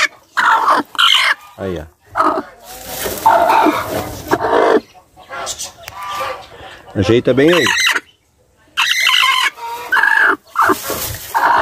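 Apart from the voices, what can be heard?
brooding silkie hen and chickens clucking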